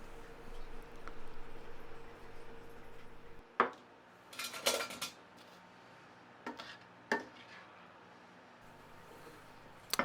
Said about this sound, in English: Dish the soup up